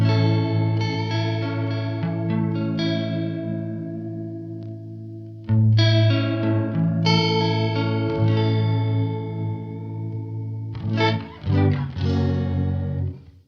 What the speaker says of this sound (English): This is akin to negative feedback on a flanger.